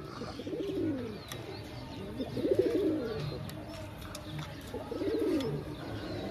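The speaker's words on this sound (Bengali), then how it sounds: "পুরো গরম পায়রা, আপনারা জাস্ট পায়রা দেখতে পারেন, জাস্ট পায়রার কোয়ালিটি আপনারা দেখতে পারেন।" Pigeons being sold in pairs coo close by in rounded, throaty bursts that repeat every two to three seconds, moderately loud over a quiet background.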